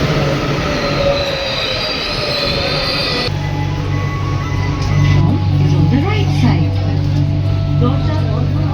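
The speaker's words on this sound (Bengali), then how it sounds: "ট্রেন চলে এসছে" A Kolkata metro train pulls into the station: loud rolling rumble and screeching wheel squeal at close range, then a lower steady hum as it slows, with voices around.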